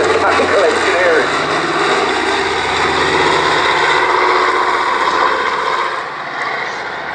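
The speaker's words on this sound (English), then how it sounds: "Now, Catalina with its landing gear down this time, demonstrating its amphibious qualities" A Canadian-built PBV-1A Canso Catalina amphibious flying boat passes with landing gear down at a Shuttleworth Fly Navy airshow, its piston engines droning loud and steady before easing slightly; a commentator talks over it.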